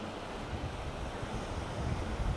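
Steady surf rolling onto the long white-sand shore of Hua Hin Beach in Thailand, a continuous broad wash of breaking waves mixed with wind rumble, with no voices.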